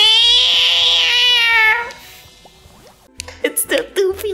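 A person imitates cat meows in a high, stretched, harmonic voice, one long loud call followed by quieter clicks and several short, breathy vocal bursts near the end.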